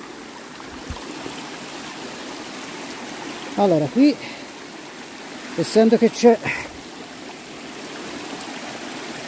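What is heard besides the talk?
stream of water in the woods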